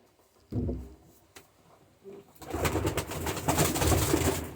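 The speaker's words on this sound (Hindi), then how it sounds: "ये लाखा परिंदा है" Lakha pigeons cooing close by, a few low soft coos followed by a denser burst of cooing and fluttery rustle, with no talk.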